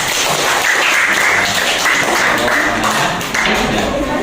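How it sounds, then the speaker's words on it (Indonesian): A room full of people claps together in a dense, steady burst of applause, close and loud, with scattered voices mixed in. "Tepuk tangan untuk kelompok 4."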